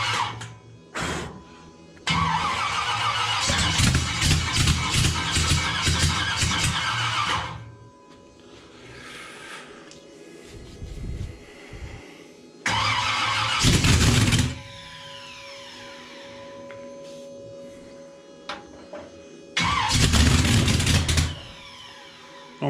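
A nitrous Chevy small block engine being started for the first time, with repeated cranking and loud bursts of firing and revving separated by quieter gaps as it catches and dies.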